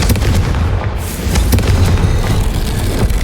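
A Confringo spell explosion in the Hogwarts Legacy video game, heard as a loud booming blast with rumbling bursts over about three seconds, with no talking.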